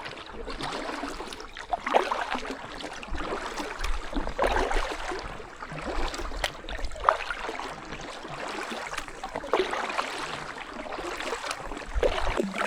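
Paddle strokes and water swirl around a loaded Sea Eagle 385FT inflatable kayak, a steady rhythmic splashing at a measured pace, close and fairly quiet with no talk.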